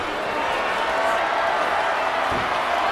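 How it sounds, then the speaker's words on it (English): Arena crowd cheering in the WWE 2K25 wrestling video game, a loud, dense, continuous roar of noise from a large audience. "Michelle McCool is firing up the crowd here"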